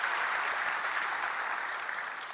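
A church congregation at a spiritual revival service applauds in a steady, even wash of many hands clapping, moderately loud and sustained, with no talk over it.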